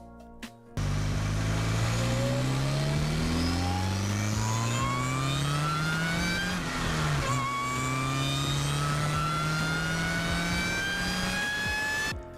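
A sports car engine revs hard and pulls away, its tone climbing through the gears with a brief dip at a shift before rising again, loud and close throughout.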